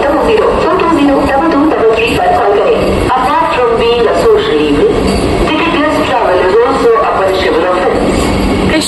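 A Vande Bharat Express on the Puri to Howrah route pulls slowly into Puri station with a loud, steady rumble, while many people talk on the busy platform.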